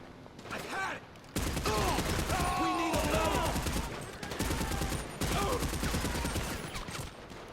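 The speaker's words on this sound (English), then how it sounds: "what is this guy shooting me with over here? Guy's got like an M16." Rapid automatic M16 rifle fire in GTA V, a dense, continuous burst of game gunshots layered over music and other game sound, loud throughout with a brief drop early on.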